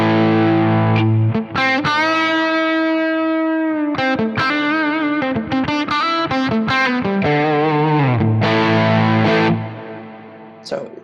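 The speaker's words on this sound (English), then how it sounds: "you kind of get that effect of the spring reverb on the amp inside a room" Distorted electric guitar chords ring out through a Quad Cortex amp preset with a splashy, lingering spring reverb tail that fades into the room after each strum.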